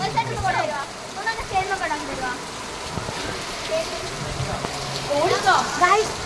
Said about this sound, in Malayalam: ഇവിടെ ഇപ്പൊ പൊരിഞ്ഞ മഴയാണ്